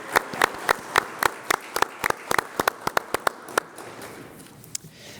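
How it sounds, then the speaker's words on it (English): A handful of audience members at a Denver Public Schools District 5 candidate forum clap sparsely, with distinct separate claps that thin out and stop, leaving quiet room tone. "Audience, another round of applause."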